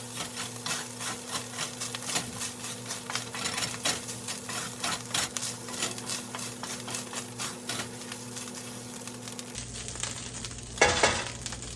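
Ground beef sizzles steadily in a hot pan as it caramelizes, with a continuous frying hiss and repeated scraping stirs throughout, then a louder clatter of the utensil near the end.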